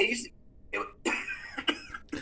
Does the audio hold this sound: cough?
yes